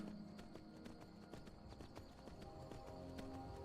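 Steady horse hooves clop in a quick, even rhythm over a low background hum, with no talking, from a horse in a video game.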